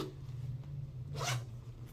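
The zipper on the back compartment of a Dooney & Bourke or Coach handbag is pulled in one quick, close rasping stroke over a steady low hum, with no talking.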